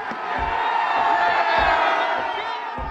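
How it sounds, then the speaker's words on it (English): A large outdoor crowd roars and cheers as a tall Lenin statue topples, a dense sustained wash of shouting voices and whoops at moderate distance, with a few low thuds underneath. "the crowd goes wild."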